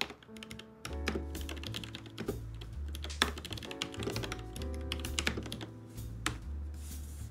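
Fingers type steadily on a keyboard connected to a Samsung Smart Monitor M8, a close run of quick clicking keystrokes with brief pauses, heard alone without talk.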